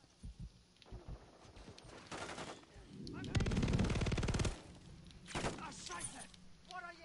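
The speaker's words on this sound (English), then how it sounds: "That turret is lighting me up." Rapid turret machine gun fire in Call of Duty: Modern Warfare 3, sustained bursts mixed with other gunshots during a hectic multiplayer match, loud and close, with players talking over it at times.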